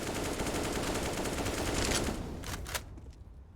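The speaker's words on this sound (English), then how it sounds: "OC with the M4" M4 rifle fire in Counter-Strike on the Overpass map crackles in a dense, rapid stream for nearly three seconds, then cuts off, leaving a short quiet tail.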